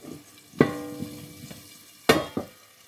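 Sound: potatoes frying in oil in a pan

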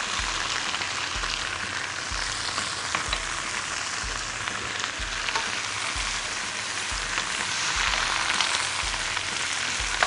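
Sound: cabbage stir-frying with fish sauce in a pan

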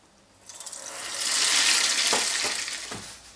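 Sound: frying food in oil in a small pot

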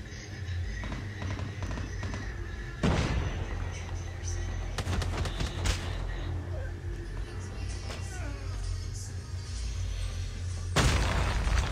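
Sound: shotgun gunfire in the video game Call of Duty Mobile

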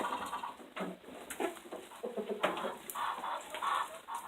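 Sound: hens clucking

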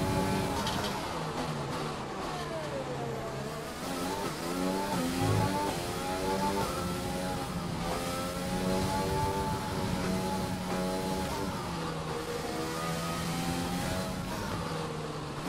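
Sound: F1 race car accelerating, from the video game F1 2020

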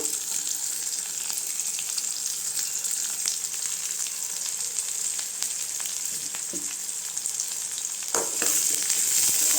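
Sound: sautéing onion, curry leaves and dried chilli in a pan

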